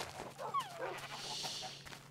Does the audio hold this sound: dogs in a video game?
yes